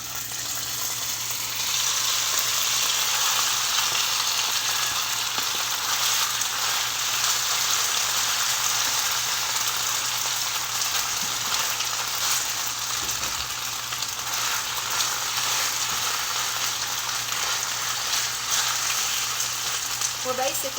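Ground beef browns in a pan with a steady, dense sizzle and crackle that runs unbroken, with occasional faint stirring scrapes and no talking.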